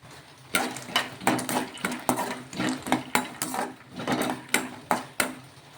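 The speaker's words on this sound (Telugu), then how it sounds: "ఇందులోకి కొన్ని పల్లీలు అయితే వేసుకోవాలి వేసుకొని కొంచెం ఈ నూనెలో ఫ్రై చేసేసుకోవాలి" Peanuts frying in oil in a kadai, stirred with a spoon that scrapes and knocks against the pan in a regular rhythm of clattering strokes, about one every half second, close and fairly loud, with no voices.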